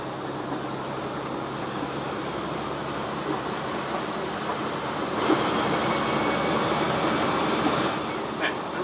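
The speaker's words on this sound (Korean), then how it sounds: "엑셀을 밟을 때 이 소리가 납니다" A 5-ton cargo truck cab at highway speed, with a steady airy whistling, wind-like hiss from the engine under acceleration over constant road rumble, rising slightly partway through.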